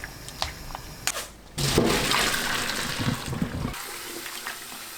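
Cold water rushes from a tap over blanched pepper leaves being rinsed in a kitchen, with a few light clinks before the flow and a fairly close splashing stream for about two seconds.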